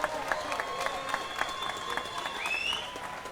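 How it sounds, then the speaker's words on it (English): Crowd applause at an XKO Summer Bash boxing event, a steady wash of clapping across the hall with scattered sharper claps and a faint whistle near the end. "Ladies and gentlemen, a round of applause for your main event"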